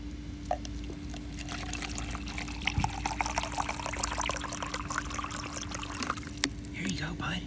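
Water pours into a dish for a rescued schnauzer, a steady trickling stream under a low constant hum, with a few clinks and a brief voice partway through.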